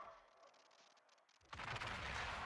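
In World of Warships, a naval gun salvo slams home as a citadel hit on a ship: faint rumbling battle noise gives way to a sudden loud, broad blast that keeps roaring to the end.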